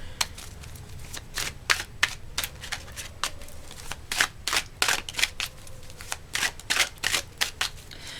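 Tarot cards are shuffled and drawn, producing a steady run of sharp crisp slaps and flicks, some louder than others, close by with no talking.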